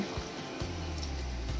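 Hot water streams steadily into sugar syrup for rasgulla in a kitchen pot, a continuous close pouring and bubbling rush with a low gurgle, no talk.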